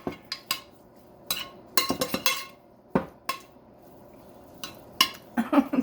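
A utensil clinks and scrapes against a bowl in irregular bursts while beef jerky marinade with pepper and Creole seasoning is stirred up, close and fairly quiet.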